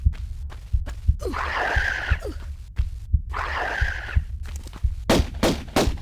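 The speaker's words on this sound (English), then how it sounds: "Pick up the items, veer to the left to dodge the bullet." Gunfire in the Tomb Raider 1: Unfinished Business Atlantean level, with a few sharp shots and bursts scattered among game noises and a low rumbling backdrop, fairly loud and without talk.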